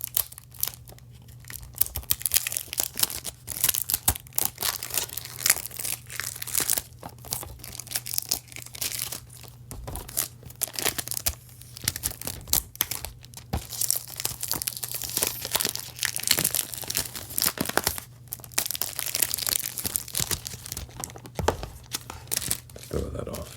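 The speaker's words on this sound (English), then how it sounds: "let's go ahead and peel the plastic off of this" Plastic wrap peeled and crumpled off a sealed collector's edition Xbox game box, a close, continuous crinkling and tearing with bursts of louder rustle throughout, and a steady low hum beneath.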